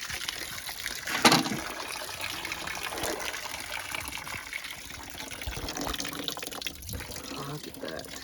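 Water rushes through the coolant system of a 1986 Ford F150 as it is flushed with a hose, a steady broadband gush lasting throughout with a brief louder splash early on.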